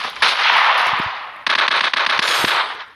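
Rapid video game gunfire rattles in two loud, dense automatic bursts separated by a brief pause, close and harsh with no voices.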